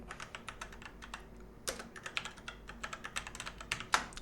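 Steady clicking of keys on a computer keyboard as text is typed into Adobe Illustrator's type tool, a quick, fairly even run of light taps with one sharper keystroke near the end and no voices.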